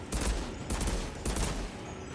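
A police sniper fires in the video game Outriders, heard as three fairly quiet bursts of gunfire spaced about half a second apart, each trailing into a short rumble.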